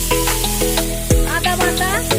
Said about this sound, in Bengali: ভেজ ডালে ফোড়ন দিচ্ছি